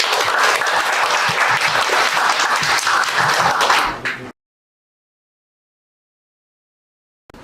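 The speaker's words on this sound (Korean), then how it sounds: "큰 박수로 맞이해 주시기 바랍니다" Seminar audience applauding to welcome a law firm's representative attorney, dense clapping for about four seconds before cutting abruptly to silence.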